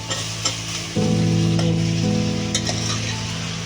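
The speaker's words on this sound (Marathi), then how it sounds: "चांगलं तेलावरती जरा फोडणीमध्ये परतवून घ्यायचं" Jackfruit pieces are stirred in hot oil with a garlic tempering, giving a close, steady sizzle with occasional scraping stirs and a low hum underneath.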